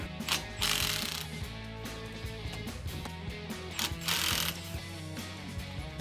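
A ratchet wrench working a 13/16 nut off the steering arm of a 2009–2018 RAM 1500 during a front shock install, giving close, crisp bursts of rapid clicking with short pauses between strokes.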